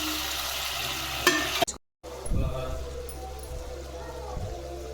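Tomato pieces sizzle in a pan as they fry for a pulao and are stirred, with an even frying hiss, a brief dropout, then scraping spatula strokes close by.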